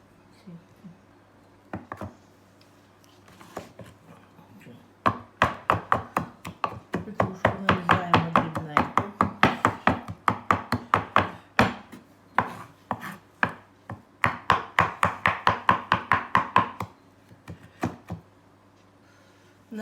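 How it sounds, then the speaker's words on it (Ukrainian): Knife chopping fresh parsley finely on a board, a fast run of sharp, close knocks in bursts with brief pauses, no talk over it. "Також дрібненько її нарізаємо."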